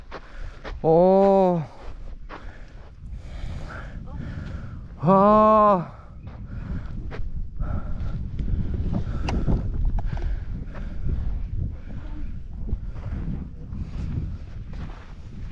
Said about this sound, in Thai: ลมมา